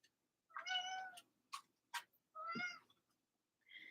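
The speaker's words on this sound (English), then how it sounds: "Kitty cat wants to say hi." A house cat meows several times at close range in a quiet room, short and drawn-out cries with small ticking sounds between.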